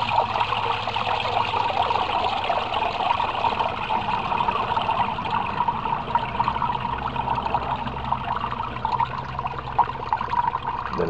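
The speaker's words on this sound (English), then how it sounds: "it'll flush the entire bed and drain it completely. And there it goes." Water drains steadily from an aquaponics grow bed through a bell siphon, a continuous close rushing and trickling flow that holds constant throughout with no talk.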